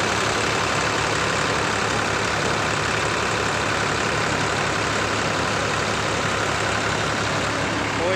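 A New Holland 3600-2 50 hp tractor engine runs steadily at 1400 rpm, a constant low throbbing drone with broad noisy wash and no talk.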